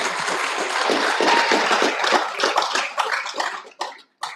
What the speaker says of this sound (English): I'd like to ask you to please give them a round of applause